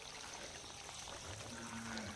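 Water pours in a steady, gentle stream onto garden plants at night, fairly faint and continuous, with a soft splashing hiss throughout.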